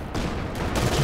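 Distant gunfire and scattered long-range shots in a nighttime Company of Heroes 2 battle, a dense continuous crackle of fusillade with no clear pauses.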